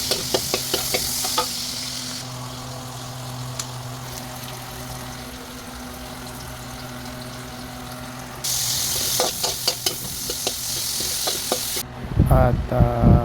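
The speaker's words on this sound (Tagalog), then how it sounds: "Gisahin muna natin yung ating ingredients" Vegetable ingredients sautéing in a pan for ginataang gulay: steady sizzling and frying hiss with stirring scrapes and clinks, louder bursts of stirring near the end.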